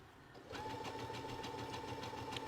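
An embroidery sewing machine starts up and runs quietly at slow speed, giving a steady, soft mechanical hum with a faint rhythmic ticking that continues without a break.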